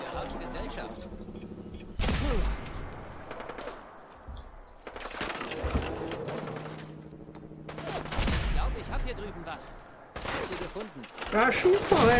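Bursts of gunfire from the Fallout 4 video game, in the Graygarden and Sanctuary area: several loud, rapid volleys separated by pauses, with German talk between the shots.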